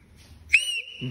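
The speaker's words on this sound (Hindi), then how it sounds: "तुम सीटी बजा के दिखाओ" A child whistles a single sustained, fairly loud note that starts sharply and holds steady for about half a second, with a faint murmur of voices at the edges.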